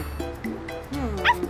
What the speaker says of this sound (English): It's a puppy.